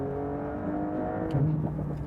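A 2024 Porsche 911 Dakar engine pulls hard between two corners, a brief steady mechanical whir and roar with a surge of revs near the end, heard from inside the car with no talk.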